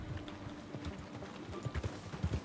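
Horse hooves clip-clop at a steady riding pace in the video game Red Dead Redemption 2, faint, close thuds that grow a little more pronounced near the end, with no talking.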